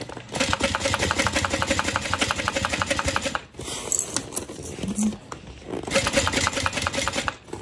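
A sewing machine stitches the last seam of a Sequoia bag in two long runs of rapid, even needle clatter, close and loud, separated by a short pause with handling noise. A voice speaks now and then.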